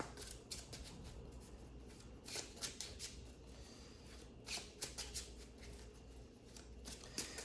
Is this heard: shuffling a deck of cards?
yes